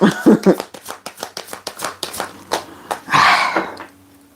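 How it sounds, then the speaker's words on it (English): Tarot cards being shuffled in quick riffling bursts, a rapid series of soft slaps and flutters close by, ending in a longer brushing riffle. "I know I'm shuffling for Eva."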